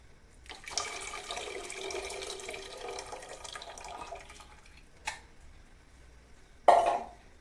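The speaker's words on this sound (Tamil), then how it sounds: "புளி கரைச்சி வச்ச தண்ணி ஊற்றிக்கலாம்." Tamarind water pours steadily into a pot of bitter gourd curry for a few seconds, followed by a soft knock and then a brief, louder splash near the end.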